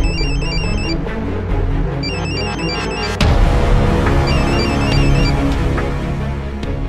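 An electronic telephone ring repeats in short bursts over a loud, droning background of music and rumble, close and clear, with the pattern returning after a sudden shift in the backdrop.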